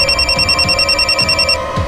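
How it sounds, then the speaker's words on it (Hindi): A telephone rings in a Crime Patrol crime drama scene, a loud, steady electronic trill pulsing in quick repeated bursts, close by and alone with no talk. "सावंत का फोन था।"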